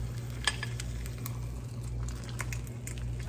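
Food sizzles steadily in a ceramic nonstick frying pan as it is flipped over, a continuous soft crackle with a few light clicks of a utensil against the pan.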